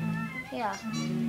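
A house cat meows once as it comes back indoors, a short rising cry heard close by while people talk over it.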